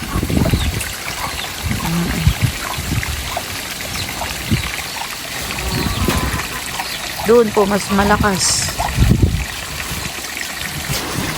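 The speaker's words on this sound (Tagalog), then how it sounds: "Dito po pala pumapasok ang tubig." Water rushes and trickles continuously nearby as floodwater flows into a swollen, overflowing river, with people talking over the steady flow.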